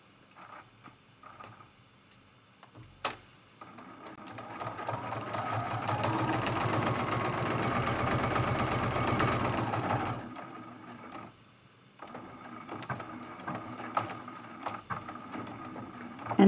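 A sewing machine stitches an art quilt in a steady, continuous whir that runs for several seconds in the middle, with quieter mechanical clicks and handling before and after.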